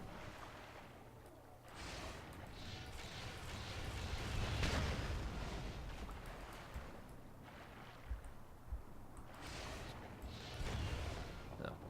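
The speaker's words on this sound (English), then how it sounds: "Yeah, explosions, I get it." Explosions in the video game Giants: Citizen Kabuto, a steady roar of booming blasts and rumbling with a swell in the middle and scattered sharp bursts, heard fairly close over continuous game noise.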